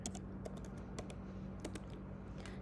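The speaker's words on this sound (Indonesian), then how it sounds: "mengcek brew kita dengan cara mengetik di terminal kalian" Quick, light keystrokes on a computer keyboard as a command is typed into a terminal, a soft, continuous run of clicks, close and quiet, with no speech.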